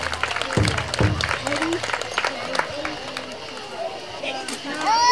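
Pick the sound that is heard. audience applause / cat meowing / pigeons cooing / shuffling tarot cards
audience applause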